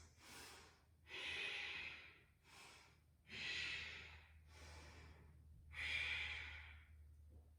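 Deep Ujjayi yoga breathing, six slow audible breaths close up, alternating softer inhales with louder, rushing throaty exhales in a steady rhythm over a faint low hum.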